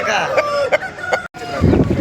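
A rooster calls at the Pileru hen market, a few loud clucks and a crow-like cry over a busy background with a brief gap of quiet.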